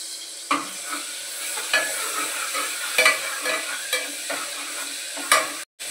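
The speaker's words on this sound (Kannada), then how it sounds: "ಈಗ ನಾನು ಪೆಪ್ಪರ್ ಗಾರ್ಲಿಕ್ ಜಿಂಜರ್ ಪೇಸ್ಟನ್ನು ನಾನು ಹಾಕ್ತಾಯಿದ್ದೀನಿ. ಅದನ್ನು ಕದಡಿದ ನಂತರ" A pepper, garlic and ginger paste sizzles while frying in a pan. Steady frying hiss runs under regular stirring scrapes that arrive about once a second. No one speaks.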